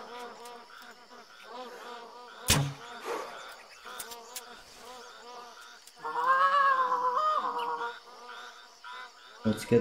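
Magpie geese calling in the hunting video game theHunter Classic, a series of nasal honking calls in short bursts, with a louder drawn-out call near the middle and sharp clicks mixed in.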